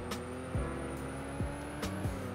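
WVD X15 Super car driving in Roblox Car Crushers 2, a steady engine tone that rises and drops through repeated gear shifts, about four quick shifts in a short burst, close and moderately loud.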